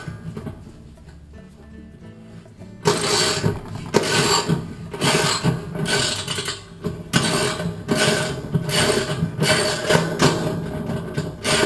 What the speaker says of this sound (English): So with a 1/2" wrench and socket, just remove all of those bolts.